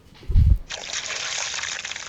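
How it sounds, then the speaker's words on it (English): In a fantasy adventure video game, a water skin is filled: a soft low thump, then a steady, fairly loud rush of trickling, pouring water that runs to the end. "I'll fill the water skin with as much water as I can and then seal it by knotting it."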